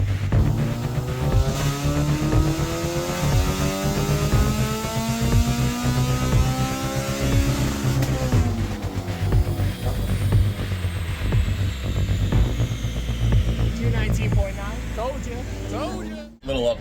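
A race car engine strains on a dyno through a full-throttle pull, its loud, steady harmonic roar climbing in pitch over about sixteen seconds before cutting off abruptly.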